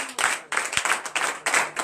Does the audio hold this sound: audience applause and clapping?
yes